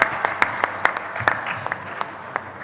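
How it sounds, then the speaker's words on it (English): Applause for the East Zone team at a conference, a moderately loud crowd clapping with sharp individual claps standing out over a softer patter, fairly close and continuous. "A big round of applause for East Zone."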